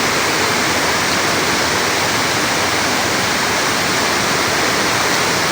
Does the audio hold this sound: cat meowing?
no